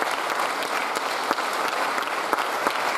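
Audience at a ballet school gala applauds for a live model, a sustained even wash of clapping with a few sharper individual claps standing out.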